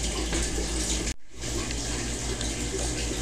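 Water gushes steadily into an aquarium during a water change, a loud, close, continuous pour broken by a single brief cut partway through.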